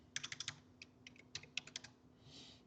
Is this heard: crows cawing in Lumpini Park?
no